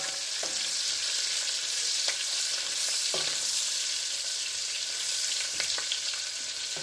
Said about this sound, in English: throw in a pound of Nettles smoked sausage. Go ahead and let those simmer for about a minute in the grease.